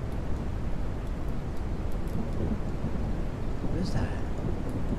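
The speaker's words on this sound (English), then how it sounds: "Oh, it's gonna rain." Heavy rain hisses steadily under a deep, rolling rumble of thunder in the video game Mist Survival, continuous and fairly loud with no talking.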